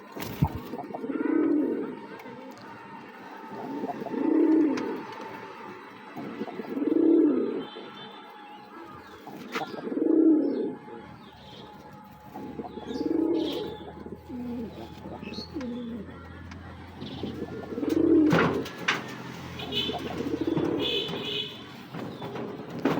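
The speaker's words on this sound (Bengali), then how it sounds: "দুইটা হলুদ বোম্বাই কবুতর আমার ঘরের।" Two yellow Bombay pigeons coo in a steady, repeating rhythm, each low throaty burst rising and fading every few seconds, close and clear with faint chirps and household noise in between.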